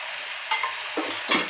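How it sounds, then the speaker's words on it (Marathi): Brinjal (village eggplant) with red chilli and coriander stirred in a pan, soft sizzling broken by two or three louder scraping stirs near the end. "छान परतून घेऊया पुन्हा एकदा"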